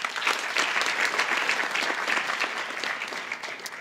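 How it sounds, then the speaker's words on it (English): At a school board meeting, an audience gives sustained applause for a student athlete, a dense even patter of many hands heard from a moderate distance. "Round of applause for Veda."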